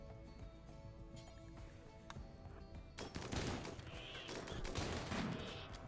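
Gunfire from the game RimWorld: quiet at first, then dense bursts of rapid shots and impacts pile up loudly into a continuous barrage.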